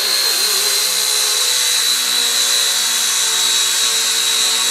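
An XK K123 AS350 RC helicopter lifting off, a loud, steady, high-pitched motor and rotor whine, close and continuous.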